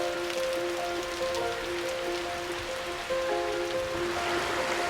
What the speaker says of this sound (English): The wet air of the Hauraki Gulf brings the gift of rain.